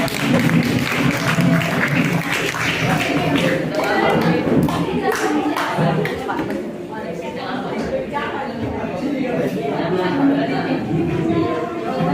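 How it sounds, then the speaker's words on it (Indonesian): Applause from a group of teachers at an academic coaching and supervision session breaks out for the next presenter, with steady clapping and lively chatter overlapping throughout, fairly loud and close. "Kita kasih tepuk tangan dulu tuh."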